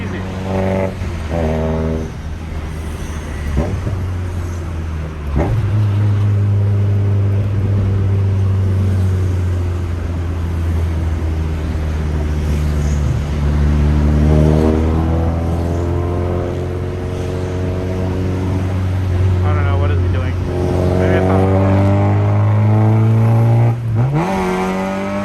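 A Honda Civic's 1.6 single-overhead-cam three-valve VTEC engine revs hard from inside the car, its pitch rising and falling through gear changes with a steady loud drone that climbs high before easing back.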